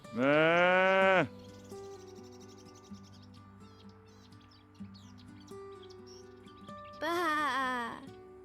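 A sheep bleats loudly and close at the start, a long wavering cry, then a second bleat follows near the end, with soft birdlike chirps and quiet farm ambience between.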